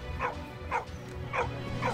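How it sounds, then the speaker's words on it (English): Dog in the video game Valiant Hearts barking four times in a steady, evenly spaced rhythm, moderately loud over a low background hum. "Dog to the rescue!"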